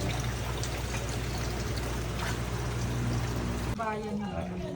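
Floodwater pours out in a steady broadband rush after a barrier is removed during heavy rain flooding in Sta. Monica, Hagonoy, with a low engine hum beneath, until the rush abruptly drops away near the end.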